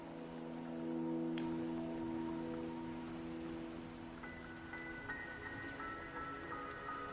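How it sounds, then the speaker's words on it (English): Steady rainfall in the video game Wuthering Waves, soft pattering drops on surfaces forming a continuous, moderately quiet bed beneath sustained musical tones. "Don't worry, the rain won't last much longer."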